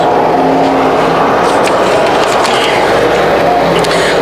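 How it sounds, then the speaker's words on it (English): Sportsman race cars roar along the backstretch at Can-Am Speedway in a loud, dense wash of engine noise, with a few higher engine notes rising above the steady din. "as they go racing down the backstretch"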